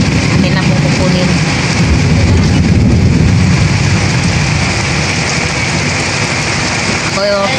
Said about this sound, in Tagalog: Ako po ay dito na lang po sa loob ng tricycle, at gawa po ng malakas po yung ulan.